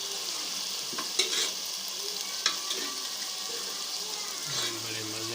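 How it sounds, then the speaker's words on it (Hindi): Pre-cooked mutton stirred into a frying fenugreek (methi) curry, with a continuous sizzle under scraping spoon strokes and a few sharp clinks against the pot. "माशाल्लाह अभी हमारी मेथी में डालेंगे गोश्त।"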